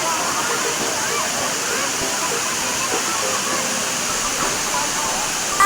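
Tinago Falls thunders in a steady, loud, close roar of rushing and splashing water that fills the whole stretch, with people talking faintly beneath it.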